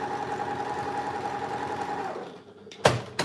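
Sewing machine stitching quilt blocks for an embroidered flower quilt, running steadily for about two seconds, then stopping, followed by a brief clatter.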